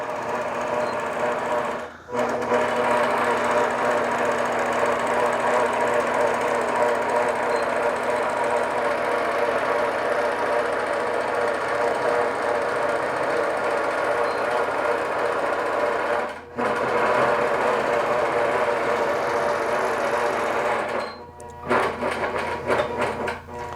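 A long arm quilting machine stitches a tree wall-hanging quilt, a steady rapid mechanical whir running continuously with two brief pauses and a stuttering restart near the end, close and loud.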